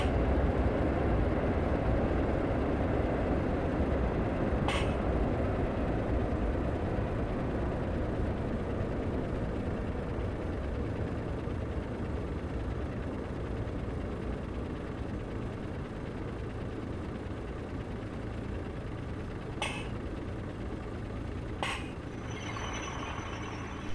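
Class 142 diesel multiple unit running on the Bishop Auckland to Darlington line in Train Simulator 2015, slowing toward a stop at Shildon; a steady low engine drone and rolling rumble fills the whole stretch, easing slightly, with a few brief clicks.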